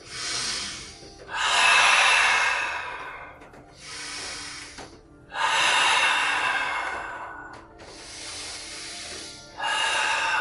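Heavy, forceful yoga breathing in long repeated waves, each drawn-out breath loud and close, rising and falling in a steady rhythm with brief pauses between, no talking.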